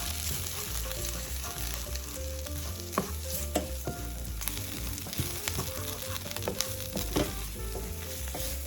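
Cumin and coriander powder being stirred into coral lentils in a frying pan over low heat, a steady close sizzle and frying hiss with scraping stir strokes and occasional utensil knocks against the pan.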